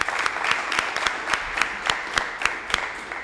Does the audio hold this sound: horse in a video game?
no